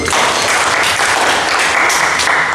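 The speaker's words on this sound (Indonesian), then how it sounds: "tepuk tangan dulu" A classroom of students claps steadily and loudly the whole way through, a dense, continuous patter of many hands with no voices standing out.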